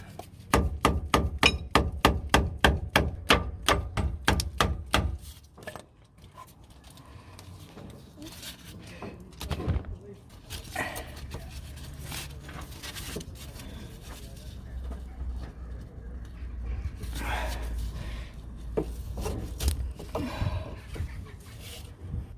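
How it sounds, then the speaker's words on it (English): A fast run of sharp metallic hammer knocks on a screwdriver driving out a bushing in the first few seconds, then quieter scattered taps and scraping with some background noise. "managed to get the whole bushing out from the inside by using a hammer and a screwdriver"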